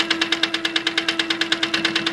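Rapid, steady stitching of a sewing machine fitted with a quarter-inch foot as it sews a quilt block, a brisk even mechanical chatter heard close and alone.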